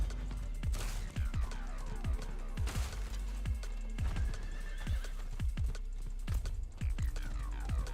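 A horse in the video game Diablo 4 whinnies loudly over a steady run of galloping hoofbeats, the clip-clop repeating in quick rhythm throughout while game ambience hums underneath.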